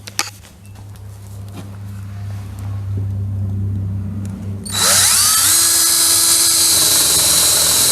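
A power drill drives screws into wooden 45-degree slats for a bike stand. A quiet shop hum comes first, then the motor suddenly whines up loud and close and holds a steady high pitch.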